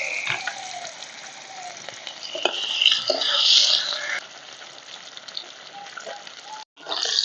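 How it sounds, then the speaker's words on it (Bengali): Fish sizzles in mustard oil in a wok with turmeric and chilli powder, a steady dense crackling hiss with occasional louder spatters, close and continuous without talk. "মাছগুলো এবার ভেজে নেব।"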